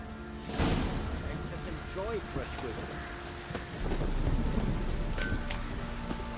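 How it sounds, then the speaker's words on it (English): Heavy rain pours down in The Witcher 3, a dense, steady hiss throughout with low rumbling thunder swelling midway, while voices talk faintly beneath the downpour. "Midges were biting on account of this downpour."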